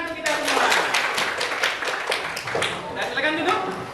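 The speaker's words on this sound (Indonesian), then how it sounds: "tepuk tangan untuk kita semua" A group of people clap their hands together in dense, continuous applause at an academic coaching session, steady and fairly close, with voices mixed in.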